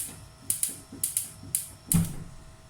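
Gas stove knob being turned to light the burner while cooking scallops in spicy coconut milk, heard as a series of about six sharp clicks of the igniter, closing with a louder whoosh-like click, with no talk.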